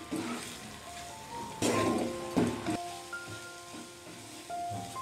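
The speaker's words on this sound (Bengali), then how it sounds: "এবার এই মশলাটা আমি ভালো করে কষিয়ে নেব।" Spice paste for spicy pointed gourd curry stirred and fried in a pan: soft scraping and clinks of a spoon against metal over a faint sizzle, fairly quiet with a few louder strokes.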